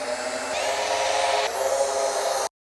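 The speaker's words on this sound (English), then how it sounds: "Drill into your center hole first." Power drill boring a center hole for a screen track, a steady loud whirring drone that shifts pitch partway through and runs continuously for about two and a half seconds before cutting off abruptly.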